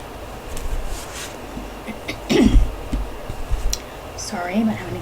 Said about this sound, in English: I'm having to constantly keep clearing my throat.